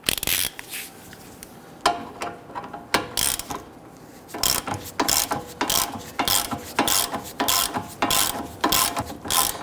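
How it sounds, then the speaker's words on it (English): A hand ratchet and socket run a bolt in on a 2010-2019 Ford Taurus rear CV axle job, giving repeated sharp metallic clicking bursts in uneven rhythm, close and fairly loud, with no talk over it. "Just gonna grab our ratchet and our socket and we'll go ahead and run that in."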